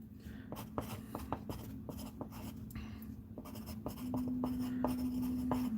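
A pencil scratches and taps on a workshop workbench in a run of short strokes, close and fairly quiet, with a steady hum underneath and no one speaking.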